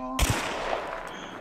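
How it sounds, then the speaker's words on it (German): Gunfire in the online shooter Hunt: Showdown breaks out after a moment of quiet, with a couple of sharp shots followed by a dense, noisy wash of combat sound, loud and close. "die schießen jetzt schon"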